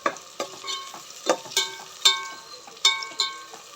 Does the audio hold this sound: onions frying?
yes